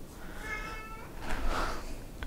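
A pet cat meows faintly in a quiet room: a soft drawn-out cry early on, then a second brief meow, both low in level against a hushed background.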